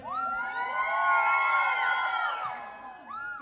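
A group of single women at a party lets out loud, high-pitched shouts and whoops that rise together, fade, then swell again briefly.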